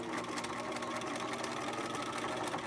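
A sewing machine runs a straight stitch with a steady, fast mechanical chatter that holds at an even, moderate level throughout, close by and with no talking.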